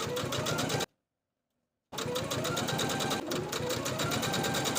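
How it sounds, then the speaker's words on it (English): A sewing machine edge stitches sleeve hems on a dress, a rapid steady mechanical whir with dense stitch ticks, cutting out for about a second before resuming at the same pace. "I'm going to take them to my machine and edge stitch close to this inner upper fold all the way around both sleeves"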